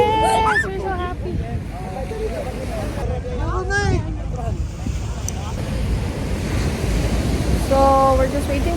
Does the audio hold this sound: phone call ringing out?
no